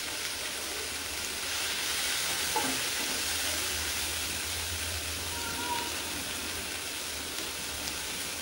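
Chopped tomatoes sauté for pepper rasam, giving a steady close hiss of frying oil that holds evenly throughout, with faint stirring touches and no talking.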